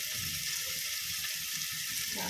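Ground masala paste meeting a hot oiled pan for a dry pea curry gives a steady, even hiss of frying that holds without a break, close by with no voices.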